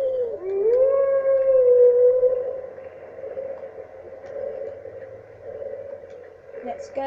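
A dog in the video game Skyrim lets out a long, rising and wavering howl that is loud and near, then fades as someone talks over steady game background.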